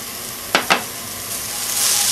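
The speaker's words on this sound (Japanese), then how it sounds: "ニンニクも先に入れて一緒に炒めてください" Garlic stir-fried in an iron pan for pilaf, a steady sizzle broken by two quick scraping stirs close by.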